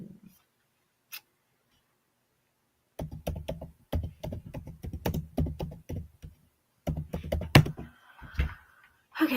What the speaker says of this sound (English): Type on the keyboard with such authority, Jen.